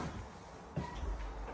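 A bathroom door in a damp, mouldy bathroom is opened, giving a brief knock and scrape followed by a low rumbling shift, heard close and alone.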